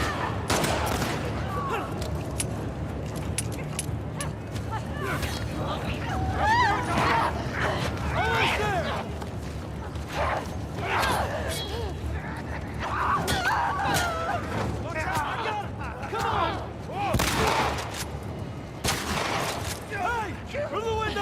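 Repeated gunshots from The Last of Us Part 2 crack out in scattered bursts, sharp and near, over tense in-game voices and background game sound.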